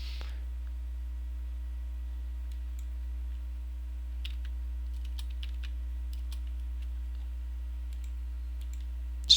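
Sparse keystrokes on a computer keyboard while values are entered into a running program during a coding lesson, faint clicks scattered over a steady low electrical hum, with no talking.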